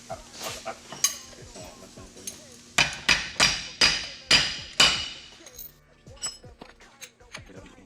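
Sharp metallic hammer strikes ring out as rear differential bushings are driven in on a G35, a quick run of about six evenly spaced blows in the middle with scattered lighter taps around them.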